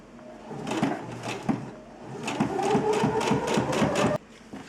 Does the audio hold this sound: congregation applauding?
no